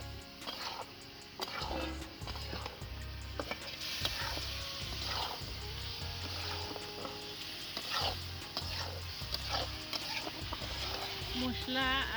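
Fried potato and eggplant going into spiced oil in a pan for a Bengali rohu fish curry, with a steady sizzle under repeated stirring and scraping of a spoon against the pan while a voice talks over it.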